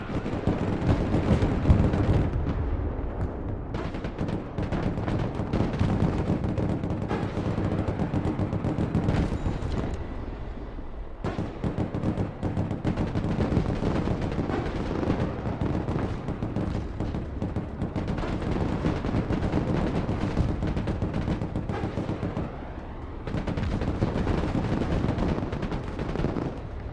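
Heavy gunfire roars almost without pause as a vehicle gunner engages targets in the war game Broken Arrow, a dense barrage of booming shots and rumbling impacts with a few short lulls.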